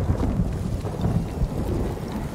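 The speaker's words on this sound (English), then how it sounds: "maybe we shouldn't be fighting with long metal sticks in a lightning storm" A thunderstorm in the video game Ghost of Tsushima: heavy, steady rain hisses beneath low rolling thunder, continuous and fairly loud throughout.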